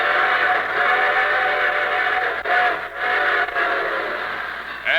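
A steam train whistle used as a sound effect on the old radio program The Railroad Hour, a loud sustained multi-tone chord blowing almost continuously with a couple of brief dips, no talking over it.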